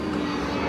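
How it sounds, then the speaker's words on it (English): Fixed-wing airplane passing overhead near Legoland in Southern California, a steady, fairly loud engine drone filling the whole moment with no voices over it. "There's an airplane coming over too."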